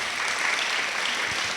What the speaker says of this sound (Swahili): Hebu tumpigie Bwana Yesu makofi